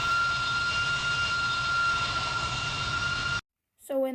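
A jet airliner in the video game PTFS roars steadily at takeoff thrust as a loud, continuous engine drone, then cuts off abruptly before a voice briefly begins speaking.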